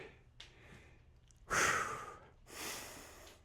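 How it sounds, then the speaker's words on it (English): Close, heavy breaths during a steel club workout: a few soft inhales, then two loud, forceful exhales with a rough, airy rush, like someone winded from exertion. "You hear that breathing?"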